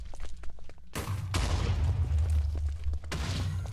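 Gunshots from a modded gun in Minecraft during a boss fight, two loud sharp bursts with a booming low-end tail, the first sustained for over two seconds, the second near the end.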